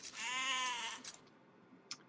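A single sheep bleat from the Age of Empires game, short, bright and wavering, followed by a few faint clicks in otherwise quiet surroundings.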